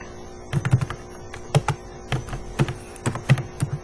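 Keys clacking on a computer keyboard while code is typed: close, irregular taps in short clusters over a faint steady hum.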